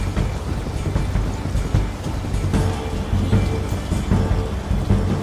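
Steady, heavy rain with rolling thunder in the Romance Club game, a continuous dense hiss of drops over low rumbles that swell and fade, with no voices.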